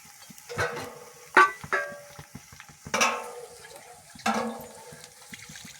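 Dill greens (shepu) being washed by hand in water, with a few distinct splashing, swishing bursts separated by quieter pauses, close by and moderately loud.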